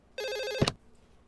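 A telephone gives one short, bright electronic ring in a cartoon scene, cut off abruptly by a dull thump as it is picked up, followed by quiet.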